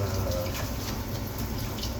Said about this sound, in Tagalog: importante ang siyempre hugasan natin ng ating mga ginagamit pangluto bago at pagkatapos